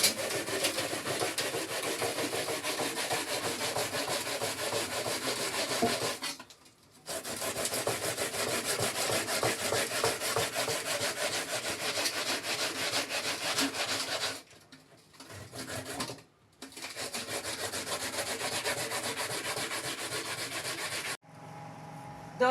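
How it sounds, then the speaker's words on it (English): Cocoyam and water yam rasp against a hand grater in long continuous scraping strokes, loud and close, with a few short pauses between bursts. "You don't ground this one, you grate it with your grater, like I'm doing it now."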